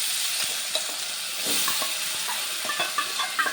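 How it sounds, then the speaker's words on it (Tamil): Sago pearls dropped into hot oil tempering with curry leaves, giving a steady close sizzle and frying hiss with light stirring clicks throughout. "இப்போ தாளிப்பு முடிஞ்சிட்டு நம்ம இப்போ ஜவ்வரிசியை போட்டுக்கலாம்"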